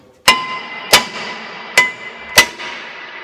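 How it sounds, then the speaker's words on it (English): Four sharp, evenly spaced hammer strikes ring out on the face of a brake rotor on a Mercury Mountaineer / Ford Explorer, each a loud metallic clank with a short ringing decay. "tap on the face of the rotor a few times"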